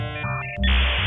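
Dial-up internet modem connecting: loud shifting electronic tones, a harsh buzzy handshake screech and a sudden burst of hissing noise in quick succession, heard alone.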